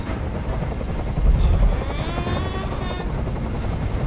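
Helicopter hovering in the video game Detroit: Become Human, a loud steady rotor chop with a rumbling low thump, heard alone and close throughout.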